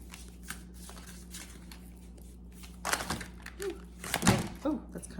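Tarot cards are shuffled in two quick papery riffling bursts near the end, close and moderately loud over a steady low background hum.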